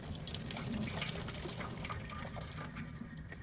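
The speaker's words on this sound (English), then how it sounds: "And then we're gonna dump this down the sink." Hot water is poured from a pot down a kitchen sink, a steady low gushing splash that keeps going at a quiet level throughout.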